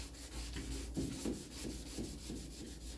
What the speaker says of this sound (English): you can imagine what it takes to dry sand this